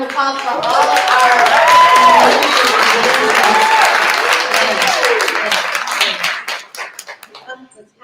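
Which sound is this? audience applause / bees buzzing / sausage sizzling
audience applause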